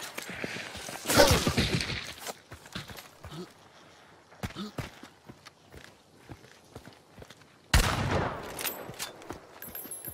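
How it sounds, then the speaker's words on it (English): Rifle shots ring out in a zombie survival video game, with two loud sharp bursts standing out among scattered smaller cracks and clatter, and some faint voice underneath. "That sounds like a pretty decent rifle, though."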